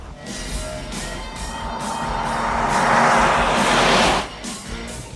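An airplane on its takeoff roll, engine roar building steadily over several seconds to a loud broad rush, then dropping off abruptly, heard alone without talk.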